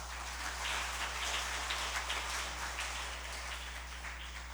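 Church congregation applauding at a Taiwanese-language service, a dense steady patter of many hands clapping at once, soft and continuous without voices.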